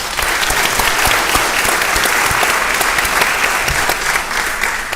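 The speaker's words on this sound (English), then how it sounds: "just waiting for another round of applause" Sustained applause from a sizable crowd, a dense steady clatter of clapping hands lasting throughout at a constant loudness.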